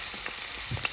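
Onion frying in a pan, a steady hissing sizzle with small crackles, close and continuous over a short moment.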